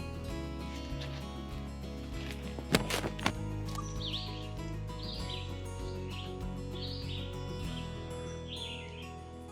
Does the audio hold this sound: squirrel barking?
no